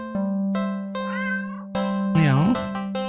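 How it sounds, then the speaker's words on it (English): A cat meows repeatedly in a video game, with clear tonal meows and a drawn-out, wavering cry set over a steady musical drone, close and loud. "Meow."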